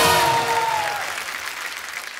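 A studio audience on a comedy talk show breaks into loud applause to welcome a singer, the clapping strongest at the start and then gradually thinning.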